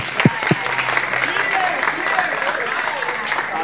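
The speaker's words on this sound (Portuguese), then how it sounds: "Aplausos para o Salomão." Audience applause at a rap battle show, a steady wash of clapping and crowd noise with voices calling out over it, including a couple of brief shouts near the start.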